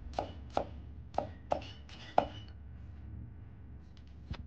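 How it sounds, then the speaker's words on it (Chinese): Knife chopping scallion whites into pieces on a board, with five or six sharp, close knocks at an uneven pace and a last faint chop after a pause. "接着把小葱的葱白改刀切成段"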